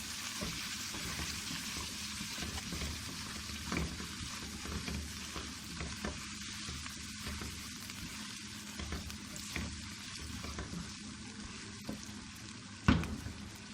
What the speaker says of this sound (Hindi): अब इसमें मसाले शामिल कर देंगे। थोड़ी देर के लिए इसको